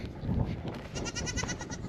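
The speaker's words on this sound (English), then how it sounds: "You check out the goats." Goats bleat close by, a few quavering calls over a low outdoor background, with a wavering, throaty bleat dominating the second half.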